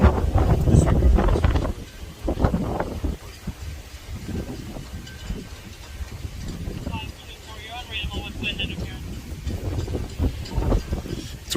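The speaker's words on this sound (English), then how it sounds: "It's very windy out here." Heavy wind buffets the microphone in loud rumbling gusts, strongest at the start, with muffled voices and faint background sounds underneath.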